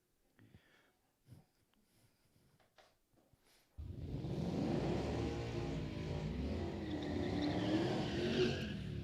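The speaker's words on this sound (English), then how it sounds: "Let's do some burnouts, and let's send cars down the racetrack." At the Gainesville drag strip during Sick Week 2022, faint scattered ticks give way to a race car's engine bursting in loud and close, then roaring on with rising, sweeping pitch as it runs down the track.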